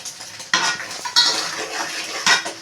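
A spoon scrapes and clatters as dried prawn curry with onion, green chilli, salt, chilli powder and garam masala is stirred in a pan, several loud bursts of metal scraping over a low sizzle.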